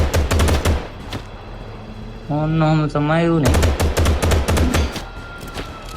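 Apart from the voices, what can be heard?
police gunfire in GTA 5 video game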